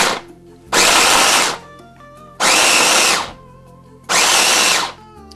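A food processor or blender runs on turbo while making a vegan quiche, in three loud, even bursts of close whirring motor, each about a second long with short pauses between.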